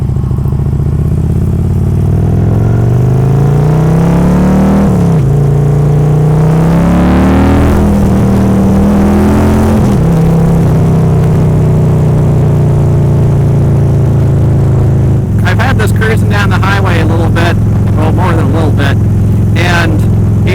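A Harley-Davidson motorcycle at highway speed. The engine drones loud and steady, its pitch shifting as the throttle changes, with heavy wind rush and some rattle. A rider talks over it throughout.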